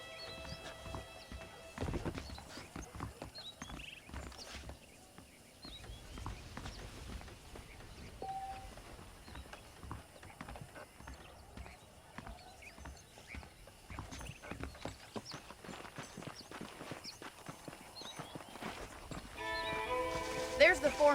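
Horse hooves clip-clop steadily at walking pace in the Red Dead Redemption video game, moderately close, with a voice talking over them and a brief whinny near the start.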